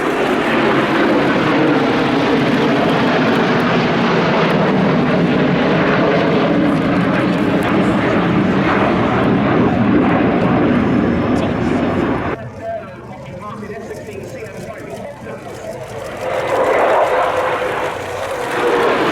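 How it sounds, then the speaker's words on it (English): A pair of F-15C fighters and an F-15E roar past at an air show, a loud sustained jet rumble that drops away abruptly, then swells again near the end, with a commentator talking over it. "A pair of F-15Cs and an F-15E."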